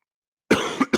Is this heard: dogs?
no